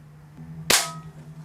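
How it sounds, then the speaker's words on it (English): A small pellet gun fires a single sharp, loud crack that decays quickly, set against a steady low background hum, with no talking. "I just have a little pellet gun"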